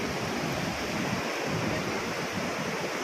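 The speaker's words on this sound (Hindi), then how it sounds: "बारिश का पानी एकदम ओवरफ्लो कर रहा है।" Rainwater overflowing and rushing in a stream near Amarkantak, a steady, loud broadband roar of turbulent water close by with no pauses or voices.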